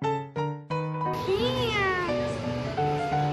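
A small kitten meows in a series of short cries at first, then one longer, wavering meow, close and clear, with a domestic home setting around it.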